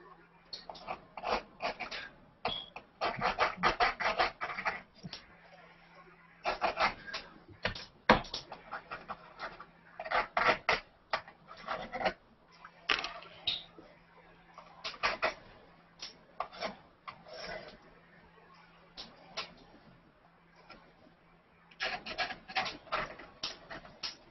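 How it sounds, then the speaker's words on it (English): A paintbrush scratching across canvas during acrylic painting, heard as bursts of dry scraping strokes in irregular clusters separated by short pauses, close and fairly quiet. "I'm not used to the noise it makes as it scratches across the canvas"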